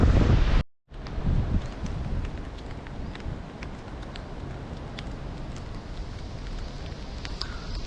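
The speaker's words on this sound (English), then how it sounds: "Yeah, now it's raining." Rain falls on a coastal cape in Phuket during the rainy season: a steady, loud hiss of drops with scattered sharp patters and gusty wind rumble, continuous after a brief dropout near the start.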